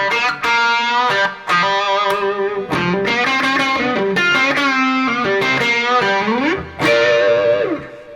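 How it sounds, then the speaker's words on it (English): Electric guitar played through a Vertex dynamic distortion pedal in a rock and blues solo, with sustained overdriven notes, bends and quick phrases ringing loud and close, broken by short pauses. "that tone is all a Vertex dynamic distortion pedal"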